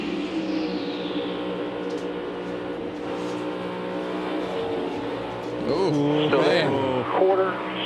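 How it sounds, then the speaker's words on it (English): A NASCAR Cup Series stock car in the Goodyear 400 throttles up, its engine roar rising in pitch and swelling near the end, with other cars droning steadily underneath and commentators talking over it. "You hear him throttle up to get in that position"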